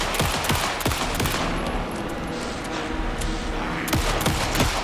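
Rapid bursts of gunfire in the video game Alan Wake 2, loud, close, sharp automatic shots clustered at the start and end over a dense, noisy battle background.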